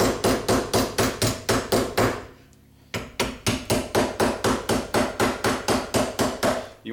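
Hammer forming a metal rear rib, a rapid regular series of loud, close ringing blows with a short pause before the steady rhythm resumes.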